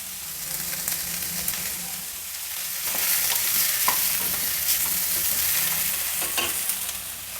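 Curry leaves sizzling in hot oil for an instant dosa tempering, a steady crackling fry with occasional scrapes of stirring in the pan, close and continuous.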